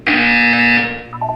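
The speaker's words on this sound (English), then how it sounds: "You will hear a buzzer." A loud, harsh electronic buzzer from the Portal 2 video game blares once for about a second, then fades into a short, quieter two-tone chime.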